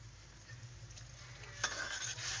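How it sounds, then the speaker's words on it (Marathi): Brinjal curry tempering sizzles steadily in a pan, with a soft continuous fry hiss and a brief scrape of stirring partway through; no talking. "झाली आता मित्रांनो फोडणी वांग्याची भाजी"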